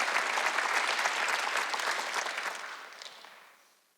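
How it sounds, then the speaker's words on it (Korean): Church congregation applauding during an Easter Sunday worship service, a dense, steady round of many hands clapping that gradually thins and fades out toward the end. "빨리 박수해야 되겠어요."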